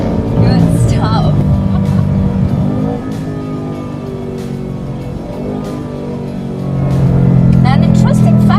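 A muscle car engine accelerates hard, a loud, close roar that eases off briefly in the middle and then swells again. Someone talks over it.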